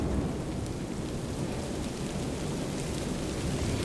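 Heavy stormy rain pours steadily in an animated horror story about a haunted house, a dense, continuous downpour that fills the whole stretch with no voices.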